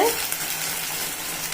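Ground onion and tomato paste sizzling and frying steadily in a hot pan, a continuous bright hiss that starts right away and holds evenly, with no talk over it.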